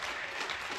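Spectators at the Air Rifle Women European Championship in Osijek, Croatia, cheering and clapping after a hit, a brief faint burst of crowd noise.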